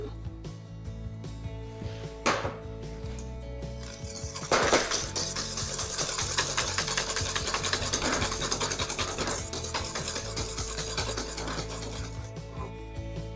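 Baking soda is stirred into homemade laundry detergent along with washing soda crystals. A steady scraping and rubbing of a utensil against a container goes on for most of the clip, with a few louder clinks and knocks, close by and without talk.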